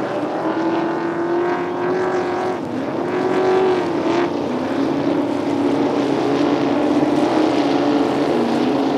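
Racing powerboats with small Holden 253 V8 engines compete in a 4.2-litre displacement race at Paynesville, producing a steady, loud, continuous engine drone with no talking.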